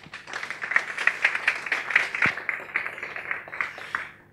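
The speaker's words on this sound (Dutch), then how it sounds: "Graag een hartelijk applaus voor Arnold." A room full of people applauding, steady clapping that swells and then gradually thins out over a few seconds, with no voices.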